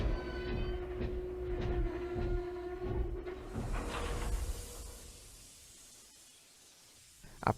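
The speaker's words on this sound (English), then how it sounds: "A passenger train pulling a train with cars of flatbeds." A passenger train pulling flatbed cars rolls past with a steady low rumble and rhythmic clatter, a sustained horn-like tone early on, then fades into quieter distant noise.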